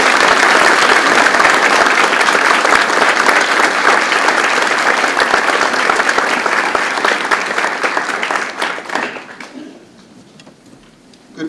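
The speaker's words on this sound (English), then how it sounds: "Please join me in a round of applause to the Ludlow High School Chorus and Mr. Henry for an outstanding job." Loud, dense audience applause rings out for a high school chorus at a Veterans Day ceremony, a steady wash of many clapping hands that thins out and fades near the end, leaving quiet room tone.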